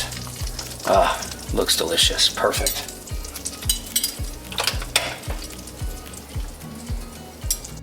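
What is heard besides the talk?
cast iron steak sizzling while basted with butter sauce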